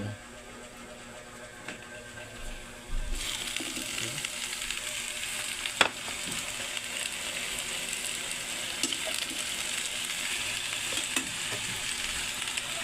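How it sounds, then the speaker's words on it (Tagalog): Carrots and cabbage sauté in a hot pan with a loud, steady sizzle that bursts in suddenly and carries on with occasional clinks of stirring. "ginigisa ko na po idol yung ating carrots idol"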